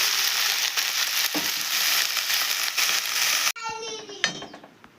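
Onions sizzle loudly in a hot pan. Then greens are dropped in, and the steady frying hiss cuts off abruptly into a softer crackle with a few stirring knocks.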